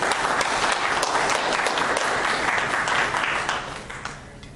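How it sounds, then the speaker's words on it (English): An audience at a debate event gives a speaker a round of applause, a loud, full burst of many clapping hands that gradually fades toward the end. "So everybody please give a round of applause for Sarah"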